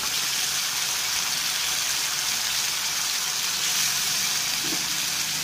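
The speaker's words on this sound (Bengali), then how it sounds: "পেঁয়াজটাকে আমি একটু লাল লাল করে ভেজে নেব।" Chopped onions frying in oil in a pan for mutton keema biryani, a steady, even sizzling hiss that stays close and constant throughout, with no talking.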